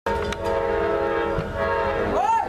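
An Amtrak Silver Star passenger train, southbound out of Tampa, rolls by close and loud in Plant City, Florida, its horn sounding a sustained chord over the rumble of the cars.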